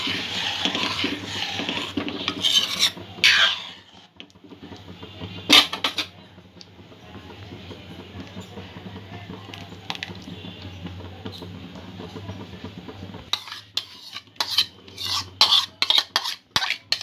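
Palm fruit puree is stirred into rice pudding in a pot. A spoon scrapes and clatters against the metal in close bursts, with a quieter stretch of soft stirring in the middle.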